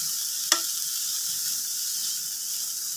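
Grated coconut sautéing in a hot pan for paruppu adai makes a soft, steady sizzle and hiss throughout, with one sharp tap of a utensil near the start and no voices.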